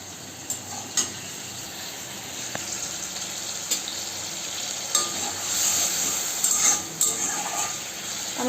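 Pumpkin flowers with turmeric frying in a pan, a steady close sizzle running throughout with occasional scrapes and small pops, no talking.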